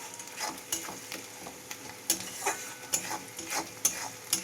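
Chopped green chillies frying in a pan: a continuous close sizzle broken by regular scraping and tapping strokes of a spatula, roughly two per second, with no voices.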